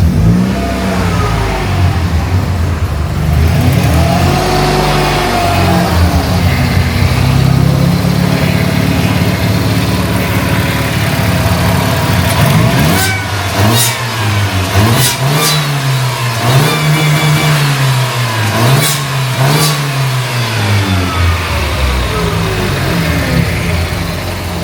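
An Evo 1 race car with a swapped Mercedes M111 supercharged engine revs loudly and close, rising and falling in repeated sweeps, then ends in a run of sharp short blips.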